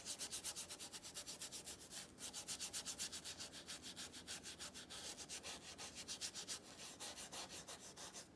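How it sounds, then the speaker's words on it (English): A brush scrubs background paint onto canvas in quick, even back-and-forth strokes, a close, dry rhythmic rasping that repeats steadily without pause. "Let's scrub in the main background color here."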